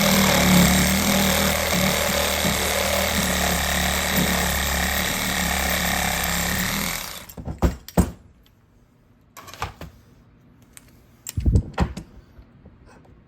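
A saw fitted with a carbide wrecker blade grinds loudly and harshly into a 3lb Pittsburgh dead-blow hammer for about seven seconds, then stops, followed by scattered clunks and rattles of handling.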